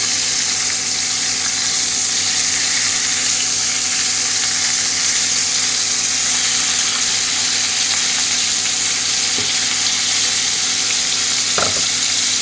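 Hilsa fish heads frying in hot oil give a steady, close sizzle with crackling spatter throughout, a couple of faint clinks of a utensil near the end.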